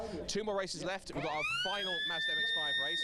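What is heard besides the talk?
siren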